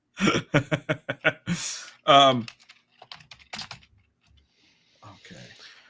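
Quick clacking keystrokes at the start, then a burst of laughter and scattered light clicks tapering into quiet.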